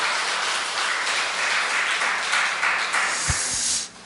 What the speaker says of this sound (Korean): 우리 글로리아 중창단에게 다시 한번 격려의 박수 부탁드립니다